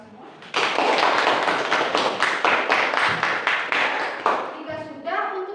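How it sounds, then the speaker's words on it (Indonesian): A school class applauds together in a lesson setting, a dense run of loud clapping that starts abruptly and holds steady for several seconds, then fades into a brief voice at the end. "Tepuk tangan untuk kita semua."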